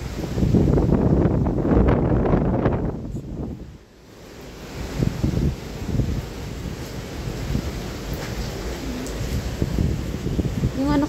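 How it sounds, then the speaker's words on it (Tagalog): Strong gusts from typhoon Ragasa in Hong Kong roar against the microphone in surging waves, dropping briefly before rushing back, with faint voices beneath. "Yung ano kasi niya, yung hangin pabugso-bugso."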